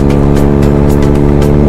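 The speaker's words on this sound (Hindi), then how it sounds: "फिल्टर साफ करवाने के बाद ना जो एग्जॉस्ट की साउंड आ रही है ना यार, वो एकदम इतनी बढ़िया आ रही है ना" Loud, continuous exhaust drone of a Kawasaki mini ZX10R motorbike while riding with a freshly cleaned filter, a steady buzzing engine note held close without pauses.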